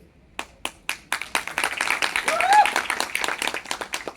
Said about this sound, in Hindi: इतनी ताली बस